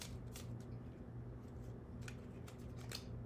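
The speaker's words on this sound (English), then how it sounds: "Shuffle these up." Deck of action cards in a tabletop board game being shuffled by hand, quiet crisp riffling and sliding with a few sharper flicks over a faint steady background hum.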